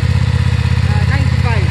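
BMW F900 XR 895cc parallel-twin motorcycle engine idling steadily after a cold start, a close, loud, even pulsing throb, with someone talking over it.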